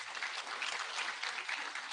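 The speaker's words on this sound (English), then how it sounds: "Can we give him a clap?" Sustained applause from the audience at an International Women's Day celebration led by President Uhuru, a dense steady wash of clapping across the whole moment with no talk.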